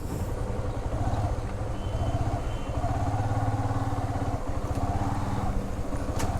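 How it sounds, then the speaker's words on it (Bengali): A Honda motorcycle runs steadily right after being push-started, its engine giving a continuous, close, loud rumbling idle with light mechanical clatter that holds for several seconds. "একটু ধাক্কা দিয়ে স্টার্ট দিয়ে দিই"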